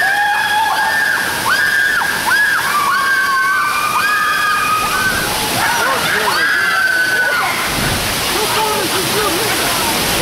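Water rushes and splashes steadily down a large slide at a Hurricane Harbor water park, a continuous loud wash with people talking over it throughout.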